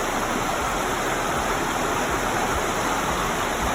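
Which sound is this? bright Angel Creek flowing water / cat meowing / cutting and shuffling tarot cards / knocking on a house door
bright Angel Creek flowing water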